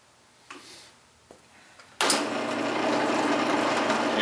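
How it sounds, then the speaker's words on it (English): A 1/4 inch drill bit bores into steel plate for a blacksmith's pritchel plate, a steady loud grinding whir that starts abruptly after a few faint taps and clicks and holds continuously to the end. "I've got a 1/4 inch drill bit in, and I'm going to drill my 1/4 inch hole."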